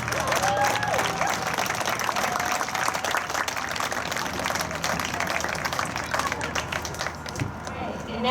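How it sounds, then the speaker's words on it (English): A crowd applauds the Lady Panthers girls' track team on a high school track senior night. Sustained clapping mixes with crowd noise and some background voices, and it tapers slightly toward the end. "let's have a big round of applause for all of our Lady Panthers"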